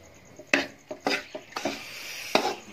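A spoon scrapes and knocks against a pan as a semolina and egg mixture is stirred and roasted, giving a series of irregular clinks and scrapes with faint sizzling underneath and no talk.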